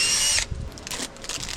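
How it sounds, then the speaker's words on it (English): A power drill runs loud and steady as a drill bit chases a pilot hole through a new port-side wooden frame of a boat, then cuts off abruptly, leaving a brief low thump and quiet workshop rustle. "can you just chase that the rest of the way through with this drill bit?"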